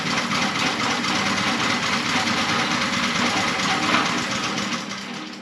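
Small Kinetic wood splitter engine running steadily at close range, a dense, loud buzzing putter with fast rhythmic firing that eases off at the very end.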